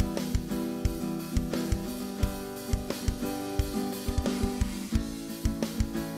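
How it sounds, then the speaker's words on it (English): Programmed preset drums in Ableton and Reason play a steady rock beat with punchy kicks over strummed guitar chords, dense and continuous. "Let's listen to those same drums over this strumming instead."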